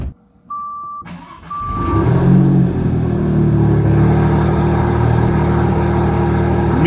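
A car engine starts with a brief beep, then revs up and settles into a loud, steady, close running drone with rising and falling engine tones.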